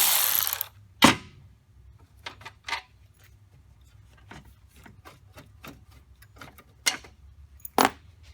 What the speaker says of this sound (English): Helps if you have the ratchet on the right direction.